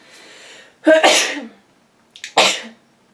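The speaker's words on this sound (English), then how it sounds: "now I need to sneeze" Two sneezes, each with a sharp intake and burst, close to the microphone, separated by a brief pause in otherwise quiet surroundings.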